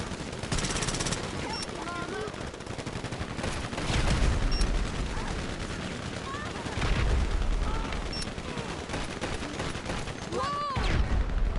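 Gunfire in the GTA Online video game, including a marksman rifle: rapid bursts and scattered shots in a sustained firefight, with layered booms and impacts throughout and a player's voice chatting over it.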